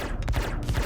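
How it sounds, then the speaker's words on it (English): Ship weapons on an RSI Zeus MKII CL fire rounds in the space game Star Citizen, a brief loud dense rattle of rapid shots packed into one continuous burst. "I have 75 rounds, which I'm gonna go ahead and fire that so you guys can see how long that is."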